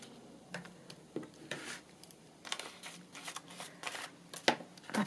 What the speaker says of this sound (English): I'm just going to trim this across the top here.